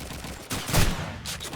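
Gunfire in the video game Call of Duty 2 during a competitive Poland versus Germany match, a couple of loud, close shots with sharp bursts and echoing tails over a short span.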